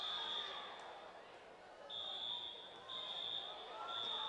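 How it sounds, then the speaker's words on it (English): Fire alarm going off during a girls' district high school basketball game in a gym, repeating high-pitched electronic beeps sounding in bursts over a low crowd murmur in the large hall. "And there's the fire alarm again."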